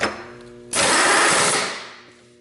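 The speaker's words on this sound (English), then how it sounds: "So I will put my drill chuck back in and drill down through it first" Drill bit boring down through metal on a trailer-build workpiece, a loud steady high-pitched grinding whine that starts abruptly, holds for about a second, then winds down, with no talking.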